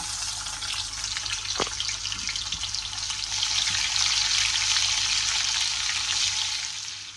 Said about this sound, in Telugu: తాలింపు అయితే వేగింది కదా ఇప్పుడైతే ఉల్లిపాయలు వేసుకుందాం